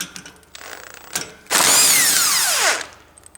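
A socket wrench ratcheting on a snow blower carburetor's drain bolt, a few sparse clicks followed by a loud, fast continuous ratcheting run lasting about a second, close up with no talk.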